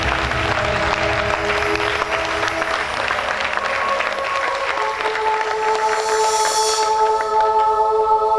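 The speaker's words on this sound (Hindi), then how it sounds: "हम जोरदार तालियों प्रभु का धन्यवाद करें" Loud, sustained clapping from a church congregation thanking God at a Hindi-language service, continuous and even, with a brief higher burst of noise near the end.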